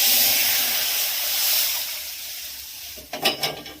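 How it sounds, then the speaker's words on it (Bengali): Milk poured into a hot wok for a nut-and-chhena sweet sends up a loud, close hiss of steam that slowly fades, followed by a few quick clattering knocks at the end. "কড়াইতে দিয়ে দিচ্ছি অল্প একটু দুধ"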